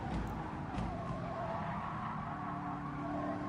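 Tires squeal and skid steadily as a race car slides and spins out on a video game circuit, the engine droning underneath in a dense, continuous wash of sound with no pauses.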